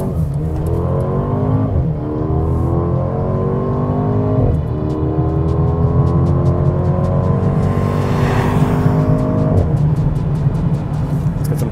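A Mercedes-AMG GLB 35 seven-seat SUV accelerates under throttle, its engine note rising loudly through several gears with brief dips at each upshift, close and unbroken, with no talk over it.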